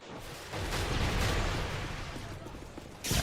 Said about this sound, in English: I swear you can tell the sound of enemy gunfire from your teammate's gunfire.